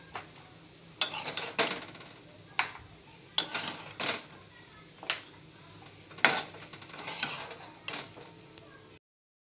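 Spoon scraping and clanking against a pan as cooked samosa filling is transferred into a bowl, about eight separate sharp metallic knocks and scrapes at an irregular pace, close by, with no talking.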